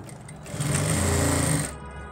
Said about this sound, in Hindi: अब ये हमारा जो मुंह है इससे ऊपर ऐसे एक सिलाई यहाँ पे लगाएंगे